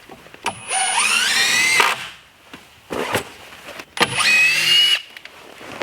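A screw gun drives a GRK screw into wood framing for an interior workshop wall. It gives two loud rising motor whines, each about a second long, with a short knock between them.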